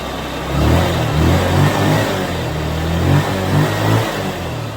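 Engine fitted with a D type carburetor revs up and down in several short, loud bursts over a steady idle during tuning, close and without talk.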